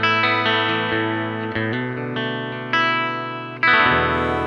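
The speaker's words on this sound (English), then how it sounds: "I'm using their Silver 120 amp, and to me it has this really nice Fender-like clean." An electric guitar plays a clean tone through a Jam Up Pro XT Silver 120 amp model with a little reverb, giving sustained ringing chords and notes that change every second or so, full and steady with no voice.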